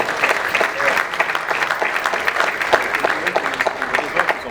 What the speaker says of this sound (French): je vais quand même demander à mes amis d'applaudir pour Félix Oisegois